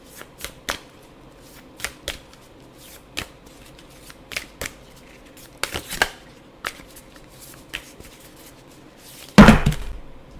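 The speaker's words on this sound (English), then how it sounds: "Let's get one from this deck, which is very difficult to shuffle" A hard-to-shuffle deck of reading cards shuffled in a series of crisp, riffling bursts with short pauses between them, ending in a louder flurry; close and clear, with no talking.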